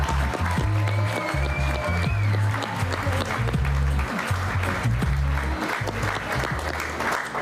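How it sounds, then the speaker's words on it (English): A graduating class at a secondary middle school leaving ceremony applauds in a sustained, loud round of clapping that fills the hall, with a few faint voices mixed in. "please give yourselves another round of applause"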